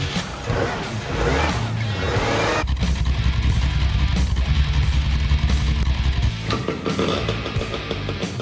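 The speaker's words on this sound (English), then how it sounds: "I'm getting towed home by a GMC" GMC truck towing a 1979 Ford F100 that hasn't run in ten years, its engine droning loud and close and climbing in revs, with rattling and road rumble throughout and no voices.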